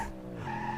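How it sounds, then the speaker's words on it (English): A car launches and skids hard in the BeamNG Drive driving game, with a loud, sustained tire squeal and skid over a droning engine, close and continuous throughout. "I want to just launch the car"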